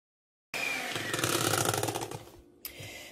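An electric mixer whirs loudly into action, beating plain yogurt into batter for a mascarpone chocolate cake; it runs steadily for about two seconds, then slows and cuts off, followed by a brief clatter.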